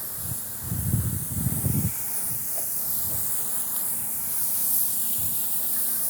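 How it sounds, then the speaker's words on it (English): Water spray rinsing a car being washed at home: a steady, broad hiss running throughout, with a few low thumpy bursts early on, fairly close and with no talk. "We're gonna actually rinse everything off."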